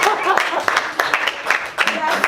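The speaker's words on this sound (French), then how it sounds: "On peut merci. applaudir Pierre Dominique." An audience applauds a speaker at a junior strategic committee event, with dense clapping that comes in uneven bursts close to the microphone.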